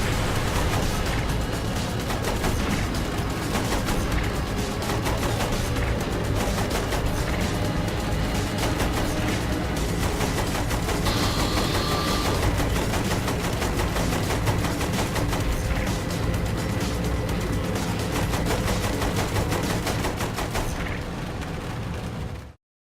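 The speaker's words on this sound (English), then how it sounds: "Use the machine gun then, not the cannon." Sustained automatic gunfire in Saints Row The Third, a dense, continuous rattle of loud bursts mixed with mechanical clatter and occasional explosive pops, running almost unbroken for over twenty seconds.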